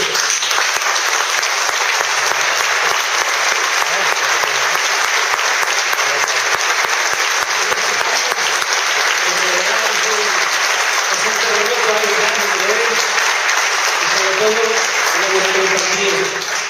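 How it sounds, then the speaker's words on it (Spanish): Sustained, dense applause from a large crowd at a Galician Letters Day commemorative event, loud and steady throughout, with faint music or voices rising beneath it in the second half. "le diéramos un grandísimo aplauso"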